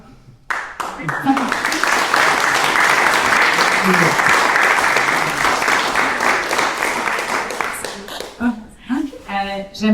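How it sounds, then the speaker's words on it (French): A crowd applauds warmly, dense steady clapping swelling in quickly and sustained for several seconds before tapering into scattered claps and a few voices near the end. "J'aimerais qu'on prenne le temps d'applaudir chaleureusement Myriam et Myriam"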